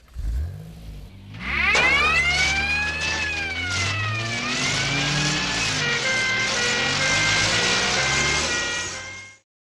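Airport crash tenders on a runway, as in the Thunderbirds episode, race out with rising, wailing siren tones over a revving engine roar, loud and close, sweeping up and down for several seconds before cutting off.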